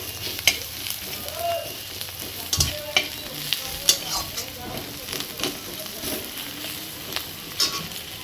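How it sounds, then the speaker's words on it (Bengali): Onion fries in a pan with a soft steady sizzle, broken by frequent spatula scrapes and taps, with faint background sounds and brief speech-like noise. "ভালো করে আগে পেঁয়াজটা ভেজে নিই"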